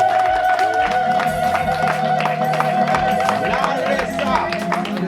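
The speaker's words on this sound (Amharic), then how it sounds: "ከፍተኛውን ጭብጨባ" A church congregation claps and cheers for the Lord in a loud sustained burst of applause, with a voice speaking over it through a hall sound system.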